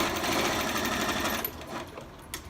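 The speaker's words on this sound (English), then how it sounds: "I just start sewing around" A sewing machine stitches around a folded-fabric star coaster, a steady close whirring that thins out and slows near the end, with no voices.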